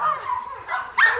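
A dog gives short, close, whiny barks and yips during bite training, three clipped vocal bursts with brief gaps between them.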